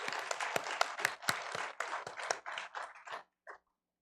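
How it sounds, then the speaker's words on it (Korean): A church congregation gives applause at a Sunday worship service after the choir's hymn: brisk, scattered claps that thin out and stop, with a last lone clap after a short pause. "영광의 박수 올려드리겠습니다."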